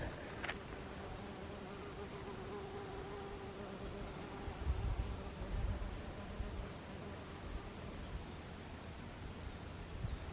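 Bees hum faintly and continuously around flowers in a summer home garden, a soft, steady buzz with a light outdoor rustle and no talking.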